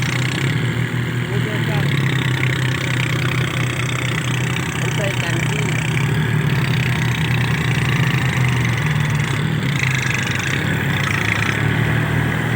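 A tractor stuck in mud idles steadily at close range with a low, continuous engine rumble, while someone talks over it.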